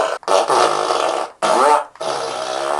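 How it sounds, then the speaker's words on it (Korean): A prank fart-sound device lets out three long, loud, buzzy farts in succession, each lasting close to a second, with short silent gaps between them. "이 뒤통수를 열면은 좀 더 방귀 소리가 파워풀해지는 것"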